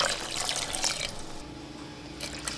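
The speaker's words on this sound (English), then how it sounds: "Now we can add our water." Water pours and splashes into a pan of rice with a continuous close rushing stream, soft drips and bubbling as the liquid fills the pan, with no talking.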